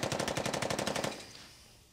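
A child mimics gunfire from a film with the mouth, a rapid rattling burst of about a dozen evenly spaced pops that stops abruptly and fades out.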